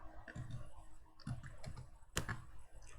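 Typing on a computer keyboard at a Windows command prompt, a quiet, uneven run of nearby key clicks with one sharper tap, under faint room noise.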